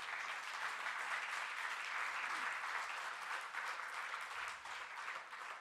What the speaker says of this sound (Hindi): तो अभी आप तालियां बजाएं तो मुझे पता चले